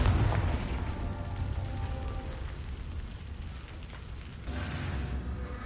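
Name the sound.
explosion from Confringo blasting spell in a video game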